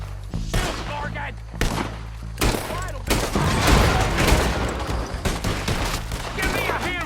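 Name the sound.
gunfire in the video game Red Dead Redemption 2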